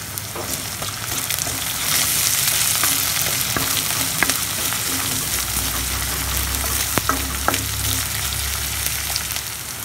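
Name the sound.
capsicum frying and being stirred for egg parotta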